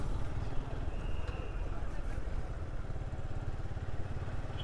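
Motorcycle riding along a road in Bangladesh on a Pohela Boishakh new-year ride, its engine a steady low chugging pulse with road and wind noise throughout, and nothing else standing out.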